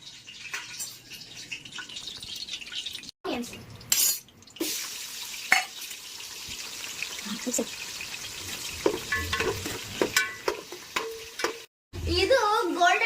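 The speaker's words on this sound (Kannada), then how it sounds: "ಇದು ಗೋಲ್ಡನ್ ಕಲರ್ ಆಗೋ ತನಕ ನಾವು ಇದನ್ನ ಫ್ರೈ ಮಾಡ್ತಾ ಇದ್ವಿ" Onions frying in a pan for a bachelor-style biryani, a steady sizzle with stirring scrapes throughout, broken by a few brief gaps and sharp clatters of utensil on pan.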